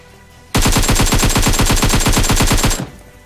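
Automatic gunfire in a video game shooter rattles out as one loud, rapid, evenly spaced burst lasting about two seconds, then cuts off.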